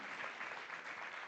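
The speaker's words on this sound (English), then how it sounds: "Let's give a round of applause for Kabarak University." Applause from an audience at an arbitration week awards event in Nairobi, honouring Kabarak University; a steady, even wash of clapping held at moderate level through the whole short stretch.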